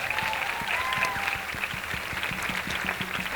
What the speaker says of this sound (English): So give yourselves applause